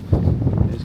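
Wind gusting across the exposed Land's End coastline in Cornwall, a steady low buffeting rumble pressing close against the microphone through a brief moment with no clear voices.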